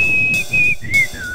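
A clear whistle in the video game Sprunki holding a steady pitch, then dipping and gliding down in short phrases, loud and close over a low rumbling background.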